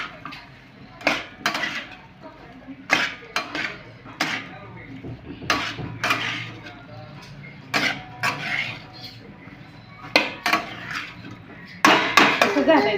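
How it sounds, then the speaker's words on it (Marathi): Crushed peanuts being mixed into brinjal in a pan, with repeated metallic clinks and scrapes of a spoon against the pan in irregular bursts, close, with a voice talking in between. "आणि ही शेंगदाण्याचा कूट आता अजून मिक्स करते"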